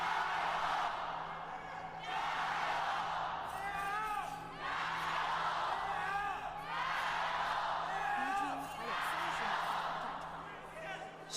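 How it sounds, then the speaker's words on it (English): A crowd at an LPL esports match chants for LGD in loud rhythmic swells about every two seconds, from an arena, with casters talking over it. "Some LGD chants in the background."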